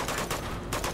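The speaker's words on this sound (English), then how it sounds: "You're getting shot from behind." Rapid gunfire from enemies in Uncharted 2 crackles in a short, loud burst of several shots, dense and close.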